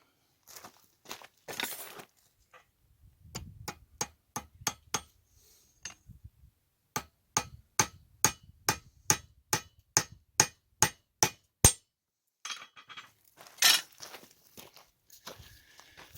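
A steady series of sharp metallic hammer strikes rings out in an even rhythm, driving a cross wedge into a new wooden hammer handle, preceded and followed by quieter clinks and handling noises.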